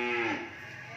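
Cattle at a farm in Mỏ Cày Bắc, Bến Tre, including French breed cows, give a single loud, drawn-out moo that fades into quieter lowing, with no talking.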